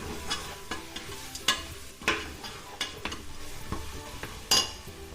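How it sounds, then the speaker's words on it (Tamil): Masala for mutton biryani, salted to soften faster, is sautéed in a pressure cooker: a continuous close sizzle broken by regular scraping and clinking strokes of a spoon against the metal pot, with no voices. "ஒரு 7 நிமிஷம் ஆகுங்க இதை வதக்கிறதுக்கு."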